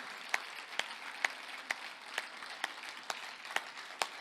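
Audience applause at a Hindi comic poetry gathering in Pune: a steady crowd clapping wash, punctuated by sharp, evenly spaced louder claps in a regular rhythm, somewhat distant.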